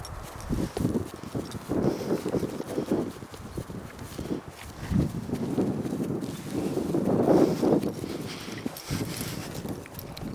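Horse hooves clip-clop on open moorland in an irregular walking rhythm, fairly close, with steady wind noise across the microphone and no clear talk.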